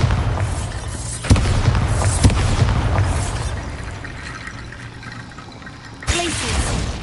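Bombarda spell explosions in the Hogwarts Legacy video game, heard as several sharp booms at irregular intervals, each with crumbling, shattering debris and a fading rumble, with a louder blast near the end.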